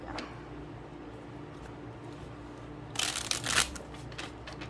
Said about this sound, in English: I'll try to give it one more shuffle